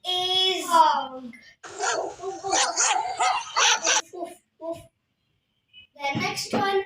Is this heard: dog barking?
yes